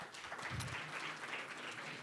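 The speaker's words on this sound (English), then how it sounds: "A round of applause for Ansel." Faint, distant-sounding applause from an audience at a blockchain supply-chain media event, a short patter of many hands clapping at low volume.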